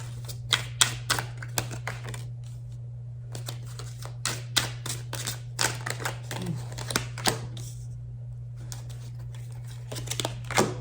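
Tarot cards being shuffled by hand, a run of crisp riffling flicks and taps in irregular bursts, close and fairly loud over a steady low hum, with no talking.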